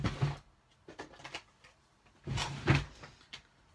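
A drawer holding glues is opened and rummaged through, a few soft wooden knocks and sliding rattles, then a louder bump and clatter, close by and without talk.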